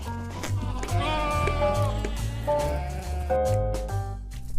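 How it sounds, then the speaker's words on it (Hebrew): Sheep bleats come in several short wavering calls over a steady low background, moderately loud and close. "Sheep,"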